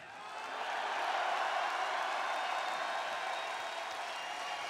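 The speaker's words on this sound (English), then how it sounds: "Also give a big applause to Cork" A large arena crowd at a black metal concert in Oslo Spektrum applauds and cheers, a dense, steady roar of clapping that swells in within the first second and holds loud throughout.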